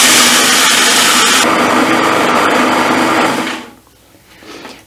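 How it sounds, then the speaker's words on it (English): Sunflower and pumpkin seeds whirring in a blender, a loud, steady high-pitched motor roar held for about three seconds before it cuts out, then a brief faint restart. "So it's been 2 minutes so far that I blended it, and it's going, you know, quite like little crumbs"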